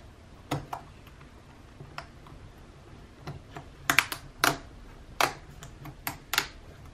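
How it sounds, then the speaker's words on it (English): Sharp, dry plastic clicks and ticks as a large keycap is pried off a Lenovo ThinkPad keyboard with a flathead screwdriver, about a dozen irregular close-up snaps, with a louder cluster toward the middle, over quiet background. "hold down the retainer clips while I peel off this cap so that they don't bend and break"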